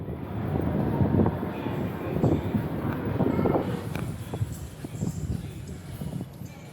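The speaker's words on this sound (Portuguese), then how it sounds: "Esta é a estação do metrô Liberdade, linha azul" A metro train at Liberdade station on São Paulo's blue line rumbles through the platform with a steady rolling roar and rattling, fading slightly as it passes, amid station echo.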